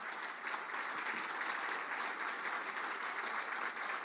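Steady, dense applause fills an indoor hall as an audience at an awards celebration claps for standing students. It is continuous and even throughout, moderately loud, with no talking over it.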